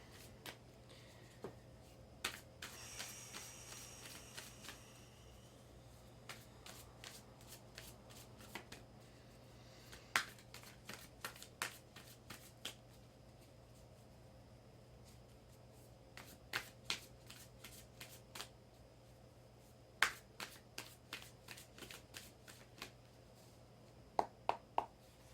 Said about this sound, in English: I'm going to start shuffling cards.